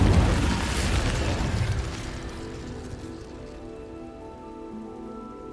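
An Incendio fire spell cast in the Hogwarts video game on hard mode erupts in a loud, crackling, rain-like rush of flame that fades over several seconds into a lower rumble with a faint tonal hum.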